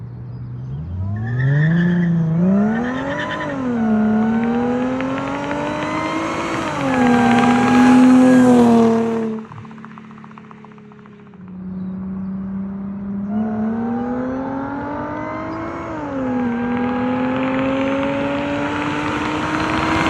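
A Chrysler Crossfire SRT-6 sports car accelerates hard in a test run, its engine climbing through the revs in loud rising sweeps with gear changes, dropping off briefly before pulling up through the gears again.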